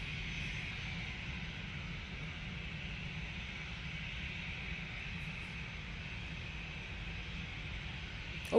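A Ryanair jet inbound from Alicante approaches Manchester Airport in wet, windy weather, its engines a faint, steady distant roar blended with wind noise, continuous without voices.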